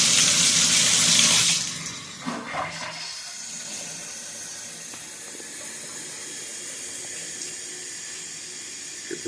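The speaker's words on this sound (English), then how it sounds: "So we'll turn this water on." Water gushes loudly from a bathtub spout fitted with a threaded adapter, then shuts down after a second or two to a faint steady hiss and trickle, with a few small knocks of handling.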